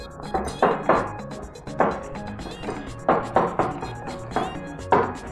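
A spoon stirs an egg into akara batter in a bowl, giving repeated sharp clinks and scrapes in an irregular rhythm, close up with no talking.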